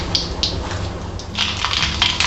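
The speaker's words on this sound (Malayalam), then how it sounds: "കടുക് പൊട്ടട്ടെ." Mustard seeds popping in hot coconut oil in a pan: a handful of sharp, scattered crackles and ticks, sparse at first and then quicker, close by with no talk.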